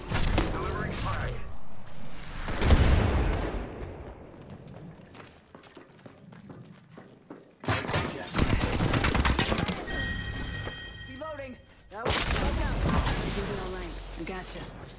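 Bursts of gunfire in a military shooter video game come in dense clusters separated by quieter stretches, loud and close, with a voice speaking in between.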